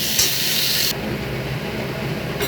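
A banana stem sizzles as it goes into a pan already spiced with cumin, coriander, turmeric and ginger; a loud, steady frying hiss runs throughout, easing slightly after the first second.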